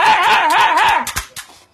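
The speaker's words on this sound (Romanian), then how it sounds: "un cățel care se ceartă cu un clește" A small dog growls and yaps at a pair of pliers, a close, wavering snarl that breaks into a few sharp barks and yips.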